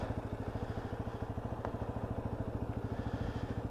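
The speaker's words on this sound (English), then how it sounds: "lovely engine noise to that, water-cooled engine" The water-cooled engine of a UM Commando Classic motorcycle idles steadily nearby, a fast, even pulsing thrum with a slight clatter, moderately quiet and unaccompanied by talk.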